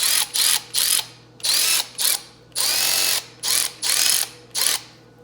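Milwaukee M12 Fuel 1/2 inch cordless ratchet running in reverse on a low battery, whirring in repeated short bursts of about a second each, with one longer run, loud and close with no talking.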